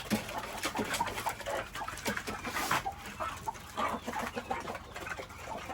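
A brooding hen with her chicks, soft clucks and repeated high peeping from the chicks close by, steady and unbroken, with no talk.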